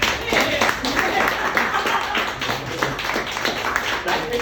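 Soft, scattered clapping from a crowd at a birthday party during speeches, continuous and fairly muted, with a voice faintly mixed in.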